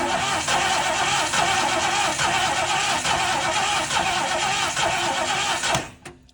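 A 1969 Mercury Cougar XR7 convertible engine cranks on the starter, a loud, close, steady rhythmic churning that runs for several seconds before cutting off abruptly.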